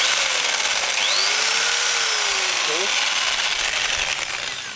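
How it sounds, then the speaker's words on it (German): Power drill boring a hole slightly upward through an exterior house wall for a pipe to an outdoor water tap, a loud, steady whirring grind close by that holds throughout and eases a little at the end. "Ich bohre das Loch leicht schräg nach oben"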